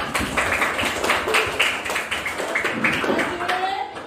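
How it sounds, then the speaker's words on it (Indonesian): A class of students claps together at a teacher's prompt, a run of quick, bright hand claps in uneven bursts close to the listener, with voices talking over them. "tepuk tangan untuk kita semua"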